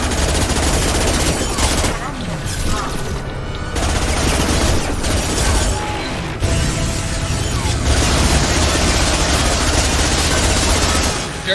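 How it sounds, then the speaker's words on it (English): Loud submachine gun fire in Mass Effect 2, dense rapid bursts running almost continuously with short pauses, mixed with mechanical clatter and booms. "Very loud SMG for this, but top tier SMG for this"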